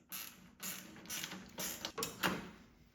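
Tightening a bolt with a 3/16 Allen key and a 13 millimeter wrench on Ice Scratchers for a Ski-Doo MXZ: quiet, close metallic creaks and ratcheting clicks in several short bursts.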